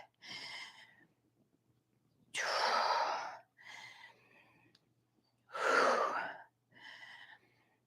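Strong breaths during a live workout, alternating between shorter breaths and two big forceful gasping exhales, close and loud, with no talking.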